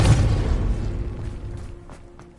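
A spell blast in the Hogwarts Legacy video game lands as a deep, rumbling boom that starts loud and slowly fades over a couple of seconds.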